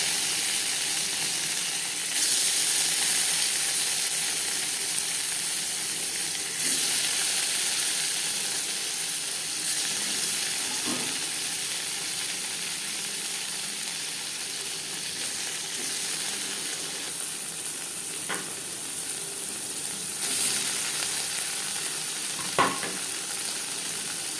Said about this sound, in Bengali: পনির হালকা করে ভেজে নেব।